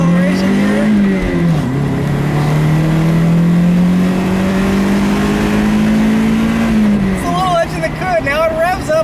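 A 2000 Toyota MR2 Spyder's engine pulls hard under acceleration, its note climbing steadily toward high revs, then dipping at a shift and rising again, loud and close from inside the cabin.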